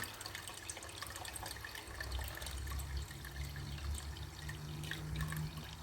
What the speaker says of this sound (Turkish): normal ben damacana suyundan tamamlarım üstünü zaten